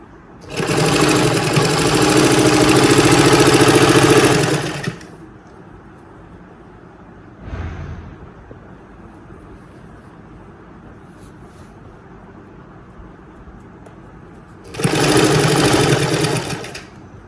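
A sewing machine stitches sari fabric and lining for an Anarkali dress in two loud, close bursts of fast, even clatter, each about four seconds long. A brief soft thump falls in the quiet gap between them.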